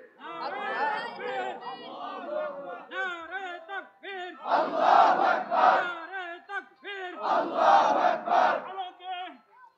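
Crowd at an outdoor religious gathering chanting the takbir in loud unison bursts, answering a leader's call, with two big swelling roars of many voices in the second half.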